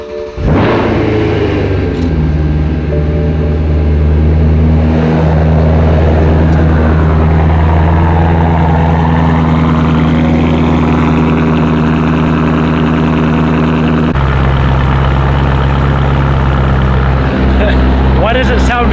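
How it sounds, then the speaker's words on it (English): A BMW M3, sitting unused for months, fires up loud and close, then settles into a steady, throaty idle with a slightly lumpy, uneven edge. "Let's fire the M3 up for the first time in months"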